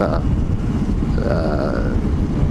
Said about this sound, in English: now that the breeze is blowing in off the coast, it's nice and cool